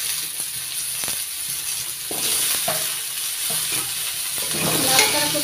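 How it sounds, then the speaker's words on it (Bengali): Chopped radish tossed in with fried potatoes in a pan, a steady moderate sizzle with occasional spatula knocks and stirring scrapes, swelling slightly as the vegetables go in, with no voices. "আলুগুলো একটু ভেজে নিয়েছি। এবার দিয়ে দিচ্ছি কেটে নেওয়া মূলো।"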